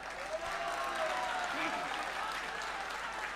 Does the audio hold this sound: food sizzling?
no